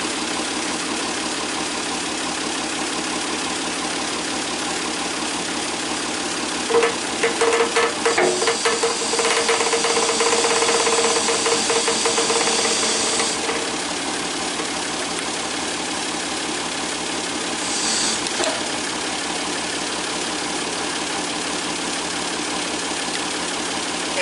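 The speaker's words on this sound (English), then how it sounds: "I'm just going to shift the tractor a little bit so that I pick up the whole tractor." A tractor engine idles faintly in the background, rising briefly in a louder burst as the machine is shifted, then settles back to a low steady run.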